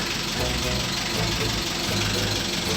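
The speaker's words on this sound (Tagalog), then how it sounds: "Warm up more for 5 minutes yung makina." A Hyundai Grand Starex van's engine idles steadily while warming up after a start, a close, continuous low rumble with a faint knocking texture and no pauses across the clip.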